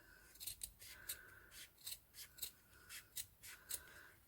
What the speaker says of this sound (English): take your scissors again